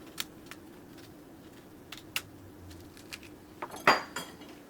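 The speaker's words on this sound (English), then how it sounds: "if you take a spoon, you can just kind of dig it out." A metal spoon scrapes and clinks as it digs the pit out of a clingstone peach, with a few scattered light taps followed by a sharper, louder scrape near the end.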